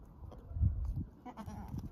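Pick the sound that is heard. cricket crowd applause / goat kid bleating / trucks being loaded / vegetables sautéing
goat kid bleating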